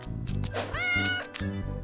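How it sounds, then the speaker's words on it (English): A cartoon kitty cat gives one clear, close meow with a rising and falling pitch, set against light background music. "It's an adorable kitty cat."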